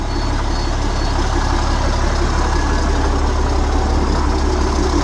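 Large diesel truck engine idling steadily at close range, a loud continuous low rumble with no change in pace and no voices.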